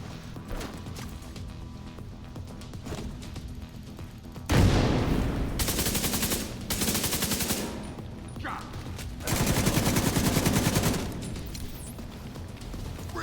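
Bursts of automatic gunfire in a video game shooter, several loud sustained volleys of rapid shots separated by quieter stretches of ambient game sound.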